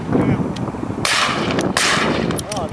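Shotgun blasts at a duck shoot, two loud broadband bangs about a second apart rising over windy outdoor noise, with people nearby.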